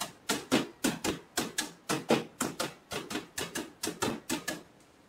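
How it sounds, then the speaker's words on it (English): Rolling pin crushing cocoa beans inside a bag, a series of about seventeen sharp, regular thumps and crackles close by, with no talking. "you've broken apart every single bean that's in the bag. If you find a couple stragglers, just get them at the end of the rolling pin"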